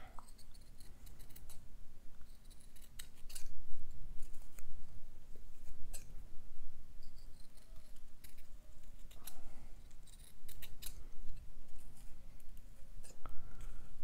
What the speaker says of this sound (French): et avec une paire de ciseaux qui coupe bien.